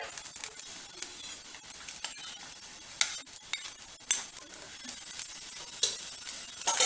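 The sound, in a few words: stirring upma in a pan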